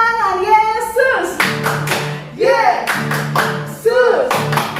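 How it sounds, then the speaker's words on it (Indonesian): Children at a Sunday school worship service clap their hands in short rhythmic bursts along with a song, the claps loud and close, alternating with sung and spoken voices. "Tepuk tangan Yesus."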